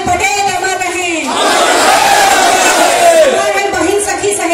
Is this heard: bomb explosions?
no